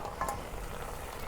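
Sweet pumpkin shoots drop into a pan where fish is frying, giving a brief soft rustle and then a steady close hiss of sizzling oil.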